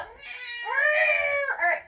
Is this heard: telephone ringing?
no